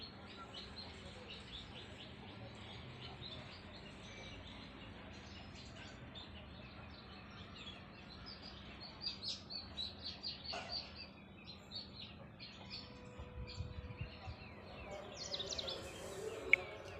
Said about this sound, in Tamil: இங்கிட்டு பார்த்தீங்கன்னா குருவி செம்பருத்தி செடியில் கூடு கட்டிக்கிட்டு இருக்குது.